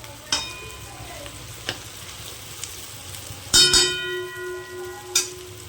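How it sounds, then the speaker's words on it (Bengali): Fish roe sizzles steadily while being stirred and fried in a pan, with a few sharp metallic clangs of a utensil against the pan. "এইভাবে ভালো করে নেড়ে চেড়ে নিতে হবে, আস্তে আস্তে ঠিক ঝুড়ো ঝুড়ো ভাজা হয়ে যাবে"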